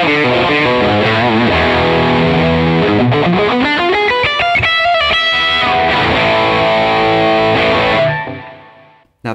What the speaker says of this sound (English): push the input level going into the SD-1 so we can get some really nice, sort of heavier overdriven tones